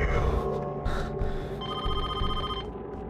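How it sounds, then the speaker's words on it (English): Telephone bell ringing in the horror video game DEADEND, a loud electronic ring repeating in bursts, heard alone without talk. "I have to answer the phone."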